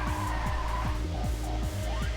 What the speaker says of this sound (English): Get out of the drift.